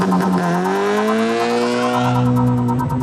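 Modified Subaru BRZ sports car engine revving hard and climbing through the gears, a loud, close, sustained tone rising steadily in pitch, then dropping at a shift before pulling up again.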